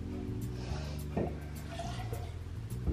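Beefeater Gin poured into a cocktail glass or shaker for a Breakfast Martini, a soft, steady trickle of liquid with a few faint drips, heard close up and alone.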